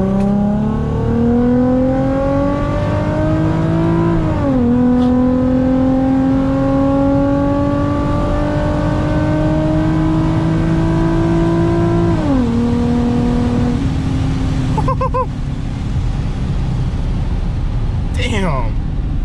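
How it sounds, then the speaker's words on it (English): An Infiniti G35 coupe accelerates hard through the gears in manual mode, its engine note rising loudly in pitch, dropping at each upshift, then climbing again in a sustained close-up pull. "so we're gonna do a little pull while manual mode's working."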